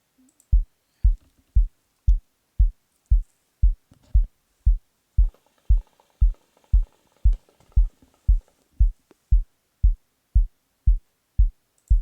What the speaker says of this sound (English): This is my kick, which is my pattern 1.